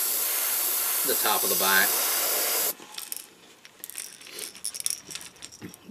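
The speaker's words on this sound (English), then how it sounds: "Spray those eyes dark and just let it feather back on the gills." A spray gun hisses loudly and steadily for nearly three seconds while painting a crappie pattern through a homemade stencil, then cuts off abruptly, leaving someone talking close by over a quiet room.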